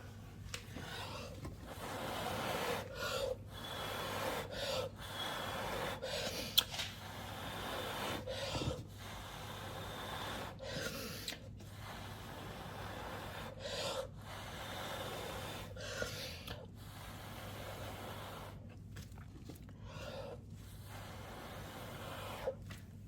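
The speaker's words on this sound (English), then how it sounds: "I'm gonna really blow hard to get good petals" Repeated hard puffs of breath blow across wet paint to push it into petal shapes, a series of short breathy bursts separated by brief pauses, close and fairly faint.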